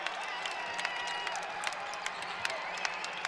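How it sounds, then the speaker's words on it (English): At a Purdue Boilermakers women's basketball home game against Denver, the arena crowd cheers and applauds in a steady, dense roar, with scattered sharp claps and shouts throughout. "the crowd goes wild as the Boilermakers crack 100 points"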